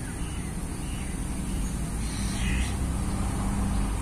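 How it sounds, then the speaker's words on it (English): Traffic noise from other cars pours in through an open window of a moving Hyundai Ioniq, a broad steady road rumble and tire roar that swells slightly toward the end, with no speech. "Definitely can hear the other car road noise."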